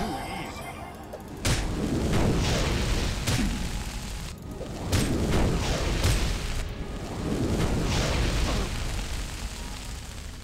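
Fire Bite spells cast on an enemy in Morrowind, several whooshing fiery bursts landing one after another with rumbling impacts in between.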